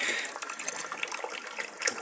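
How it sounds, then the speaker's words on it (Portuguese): Collected rainwater pours from a rain catchment at a rustic beach house, a steady splashing gush of water spattering close by, continuous and fairly loud with no one talking. "Aqui é uma captação de água que eu faço aí da chuva. Que ele cai aqui."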